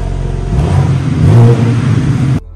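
Exhaust of a car of more than 500 horsepower revving hard, a loud, close, continuous engine roar that swells in the middle and cuts off abruptly near the end.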